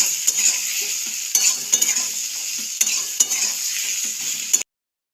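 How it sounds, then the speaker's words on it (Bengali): Capsicum and shelled peas stir-fried over high heat in a pan, a steady bright sizzle broken by repeated scraping stir strokes, close and loud, no voices. "এখন এর মধ্যে দিয়ে দিচ্ছি কুচিয়ে রাখা ক্যাপসিকাম, ছাড়িয়ে রাখা মটরশুঁটি। আঁচটাকে বাড়িয়ে দিয়েই এভাবে কষিয়ে নেব।"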